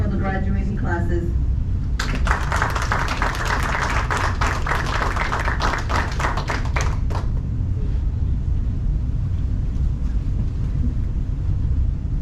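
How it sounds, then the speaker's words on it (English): Audience applause at a military CID Advanced Leader Course graduation ceremony, a burst of dense clapping from a crowd lasting several seconds before fading out, with room noise underneath. "please join me in a round of applause for the graduating classes"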